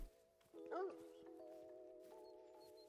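A hunting dog in TheHunter: Call of the Wild gives a short whimpering yip over a sustained droning tone, quiet and slightly distant, while a person talks faintly.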